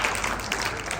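A church congregation at a sermon service breaks into clapping, a brief burst of many hands, dense and fairly close, with no voice over it.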